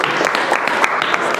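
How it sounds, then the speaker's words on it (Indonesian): Brisk applause for Mas Imam from a small group in a school classroom, a dense patter of many hands clapping at close range. "tepuk tangan untuk Mas Imam"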